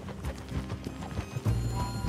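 Horse hooves clip-clopping in Red Dead Redemption 2, a steady rhythmic patter of several hoofbeats close by over low in-game ambience, growing heavier and louder in the second half.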